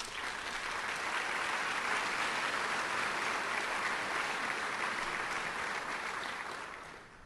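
Sustained audience applause fills a hall at a 2008 State of the City address as local reservists are welcomed, steady and dense clapping that fades slightly at the end.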